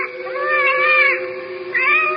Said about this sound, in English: She's only a cat.